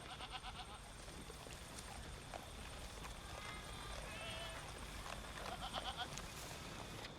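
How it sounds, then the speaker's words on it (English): A guard goat bleating on a small farm, several short wavering calls scattered through a faint outdoor background with other livestock noises, mostly alone without talk. "He's a very good guard goat"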